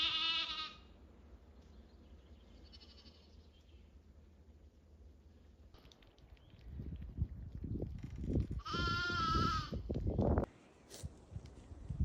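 Sheep and lambs bleat in a farm lambing setting: a clear bleat at the start, a faint distant one soon after, then a loud close bleat over rustling straw and movement.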